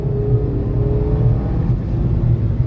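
A Hyundai Grand i10 Nios Sportz accelerating from 0 to 100, heard from inside as a loud, steady engine drone and low rumble with road noise, holding without a gear change.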